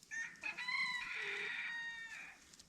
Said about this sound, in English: Have these chickens been bothering you?